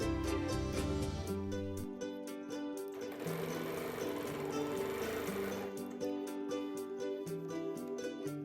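Sewing machine quilting heart shapes into the corners of feature fabric diamonds, running as a steady close whir throughout, with the needle pace briefly speeding up in the middle.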